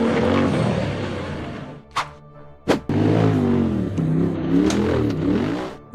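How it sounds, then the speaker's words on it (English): Off-road buggy engine revving hard as it climbs a steep, rocky dirt slope, a loud, close roar that drops briefly for two sharp knocks before surging again with wavering pitch. "The buggy accelerated hard up the steep rocky dirt slope"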